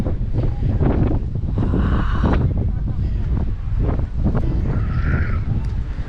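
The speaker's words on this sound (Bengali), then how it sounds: "কি হাওয়া দিচ্ছে, এই গাছগুলো পুরো একদিকে হাওয়ায়" Strong wind buffets the microphone in a constant low roar, with faint surf beneath and voices talking intermittently on the coast of North Wales.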